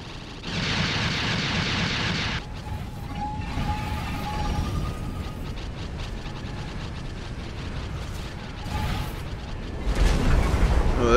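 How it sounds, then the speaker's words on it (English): Torpedoes fired from a spaceship in the game X4 with a Star Wars patch: a rushing launch burst, then a long stretch of mechanical whirring and rumbling, ending in a louder blast. "Go ahead and fire some torpedoes that way."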